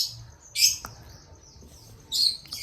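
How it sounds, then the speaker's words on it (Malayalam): A parrot gives two short, shrill calls about a second and a half apart, heard from a home sit-out against a faint background hum, with no voices. "ഇവിടെ തത്തയുണ്ട്, അതാണ് സൗണ്ട് കേൾക്കുന്നത്."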